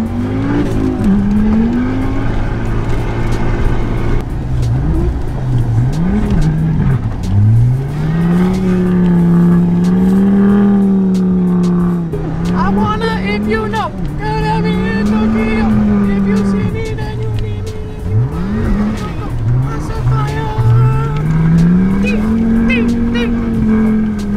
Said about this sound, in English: Nate wanted to go into the parking lot, do a little bit of drifting